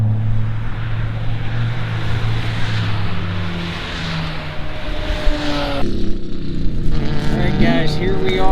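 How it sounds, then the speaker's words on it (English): HPDE race cars lap the Ozarks International Raceway, engines droning loudly with tones rising and falling as they pass, heard from trackside with a person talking over the noise. "These are mainly HPDE cars. I think they're getting their last session in of the day"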